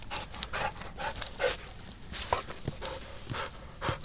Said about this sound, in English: Crazy dog. Lightning dog.